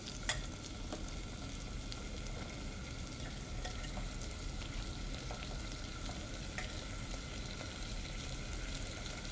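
Frozen country style pork ribs sizzle and fry in a pot, a steady close crackling hiss that runs the whole time with small pops and no talking.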